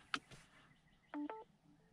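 Short electronic chime of a wireless phone charger starting in a 2016-2021 Honda Civic: a quick click followed by a soft two-tone beep, quiet and close.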